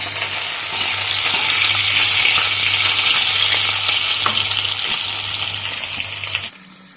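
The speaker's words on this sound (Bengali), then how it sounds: "এদিকে আলুটা হেলুনি দিচ্ছি ভেন্ডিটা হেলুনি দিচ্ছি" Potatoes and okra being stir-fried in a pan make a loud, close, unbroken sizzle with a faint steady hum beneath. The sound cuts off abruptly near the end, and nobody speaks.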